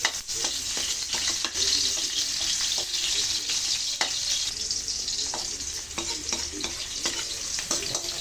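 Garlic and onion sizzle steadily in hot oil, sautéed for spicy pork ribs kaldereta, with a continuous bright frying hiss punctuated by scattered stirring clicks and spatula scrapes, close up and without talk.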